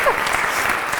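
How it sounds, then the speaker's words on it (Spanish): Applause from an audience, steady dense clapping that fills the whole short moment. "Un aplauso, por favor"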